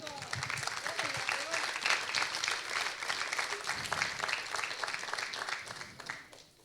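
A crowd at a Christian church service applauding steadily, with voices calling out and chattering underneath the clapping, which tapers off toward the end.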